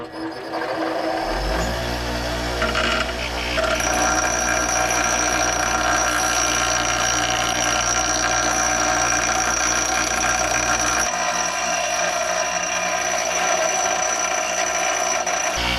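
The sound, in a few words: bench grinder grinding bevel off metal part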